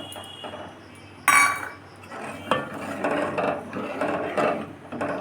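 Kheer, milk with cardamom and sugar, being stirred in a pot by hand, with soft scraping and clinking of a utensil against the pot in an uneven rhythm and one sharper knock, close up and alone.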